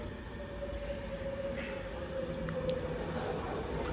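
An Avanti West Coast Class 390 train, unit 390-126, sits at a station platform with a steady low rumble and a sustained electrical hum, plus faint occasional clicks and a brief squeal.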